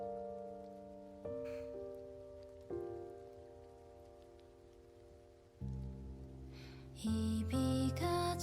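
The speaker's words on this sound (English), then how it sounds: "Oh, you can hear the rain." Rain sound effect within a K-pop track, a soft steady patter blended under sustained synth chords and layered music that swells louder toward the end.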